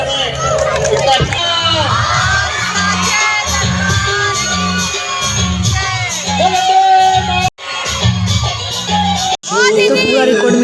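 A crowd of children shouts and cheers loudly and continuously, with excited whoops and voices mixed throughout and two brief breaks in the noise.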